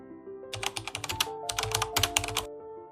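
Fingers tap quickly on a computer keyboard in two close bursts of crisp, clicky keystrokes over a faint steady tone, with no voices.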